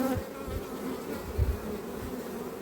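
Honeybees in a full hive in winter, a dense continuous buzzing hum close by with small swells in loudness, steady throughout and without voices.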